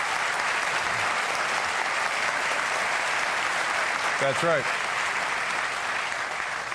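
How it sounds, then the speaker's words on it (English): Studio audience applause on a late-night talk show, a continuous wash of clapping with someone briefly speaking over it midway. "They're applauding, but a lot of good that does us."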